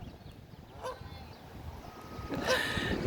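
Ducks honking outdoors near water, a couple of brief calls partway through and a louder burst of honks toward the end over steady background noise.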